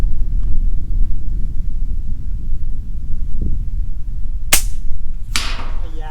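A single sharp report from an FX Impact 700 air rifle firing a 16-grain pellet at a distant soda can on a long-range outdoor course, a crisp crack standing out over steady wind rumble, followed by a second similar burst.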